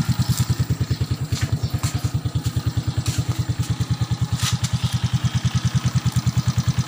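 Suzuki Smash FI motorcycle engine idling smoothly, a steady rapid low putter with even firing pulses, close and loud, with a few faint clicks over it and no talk.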